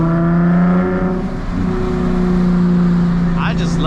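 A car engine holding a loud, steady drone in third gear, heard close from inside during a drive, with a voice speaking over it.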